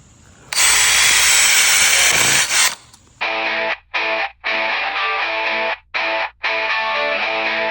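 Power drill pre-drilling holes for exterior-grade structural beam screws on a kids' treehouse platform: one long loud whining run, then several shorter bursts with brief stops between them, close and alone.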